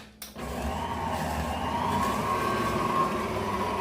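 After a brief click, an electric mixer on low speed stirs a cup of sugar with three eggs for pecan pie filling, a steady motor whir with a faint rising whine and no talking.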